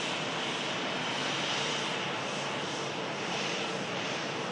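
A jet airliner taxiing past at Manchester Airport, a steady loud broadband engine roar with a faint high whine, constant throughout and heard without talk.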